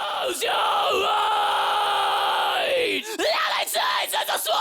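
A screaming vocal track in a music mix, one long sustained harsh scream followed by shorter yelled bursts, loud and upfront.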